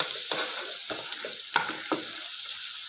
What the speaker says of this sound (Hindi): अच्छी तरह हिलाएंगे